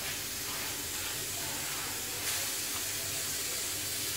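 Steady, even steam hiss rising from couscous cooking over a pot, a continuous soft rushing with no breaks, fairly faint and close, with no one talking.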